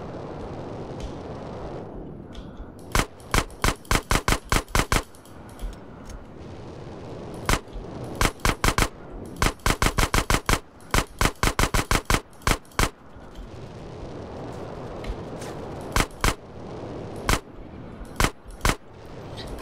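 Gunfire in GTA San Andreas, with sharp clusters of rapid shots in quick bursts separated by short gaps over a steady low game background.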